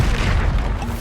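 A Bombarda blasting spell in Hogwarts Legacy bursts into a deep, loud booming explosion that fills the whole brief moment with heavy low-end rumble, with no one talking.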